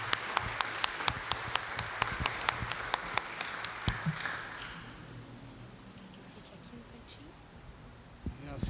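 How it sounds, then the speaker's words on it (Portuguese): Scattered claps ring out from an audience at a solemn award ceremony in a legislative chamber, sharp and distinct at first, then thinning after a few seconds into quiet room murmur. "Uma salva de palmas."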